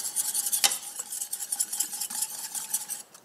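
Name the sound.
stirring mascarpone into warm chocolate mixture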